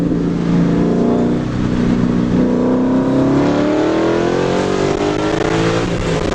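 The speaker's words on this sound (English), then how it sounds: "you can kind of hear the intake" A Mustang 5.0 engine fitted with a BBK cold air intake revs steadily and accelerates, its pitch climbing over several seconds, loud and close with a throaty intake roar throughout.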